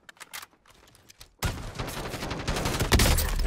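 Model 680 shotgun fired in a video game, a burst of loud, close gunfire that erupts after a quiet stretch of scattered clicks and keeps rolling with repeated blasts.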